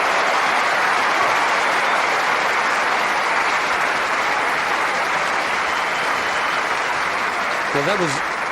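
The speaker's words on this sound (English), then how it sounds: "Round of applause" Sustained applause from the Wimbledon crowd at a 2001 men's tennis match, a dense even roar of clapping filling the whole stretch, with a brief whistle near the end.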